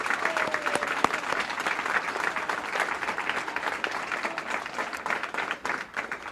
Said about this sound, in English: give yourselves a big round of applause for being such great listeners this morning